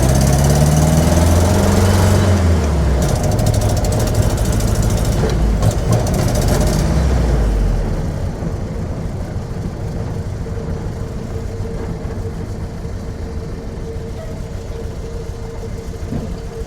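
A 1966 Jeep CJ5 engine runs rough and loud nearby, its uneven idle note wavering and surging before settling into a steadier, somewhat quieter running drone.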